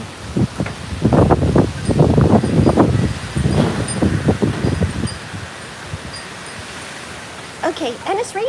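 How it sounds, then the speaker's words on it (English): Strong wind gusts outdoors at the edge of a hurricane, loud broadband buffeting that swells in bursts for about five seconds and then eases, with a voice starting up near the end. "very windy."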